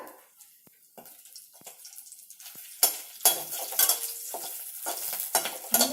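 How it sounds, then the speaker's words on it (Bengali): Whole cloves, cinnamon sticks, cardamom pods and bay leaves fry in oil in a pan, giving intermittent sizzling bursts with clinks of a spoon stirring against the metal, growing louder toward the end; no talking. "আমি এটাকে বেশি ভাজবো না। গরম মশলাটা আমি বেশি ভাজবো না।"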